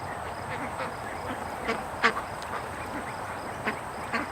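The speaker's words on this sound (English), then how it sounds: "We got a little bit of duck activity coming home, but nothing serious." Ducks returning home near a swamp give a few faint, scattered quacks over a steady outdoor background hiss, with one slightly louder call in the middle.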